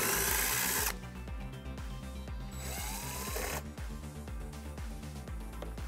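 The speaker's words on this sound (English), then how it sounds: "We're going to remove those using a 10 millimeter socket." A power tool with a 10 millimeter socket backs screws out of trim on a 2020 Subaru Impreza hatchback, a close, steady whirring drive with a regular rapid clatter and a pause midway before it runs again.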